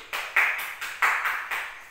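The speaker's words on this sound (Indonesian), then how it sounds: "Tepuk tangan dulu." Students in a primary-school civics lesson clap hands in a short rhythmic pattern of about six sharp, evenly spaced claps, moderately close with no talk over them.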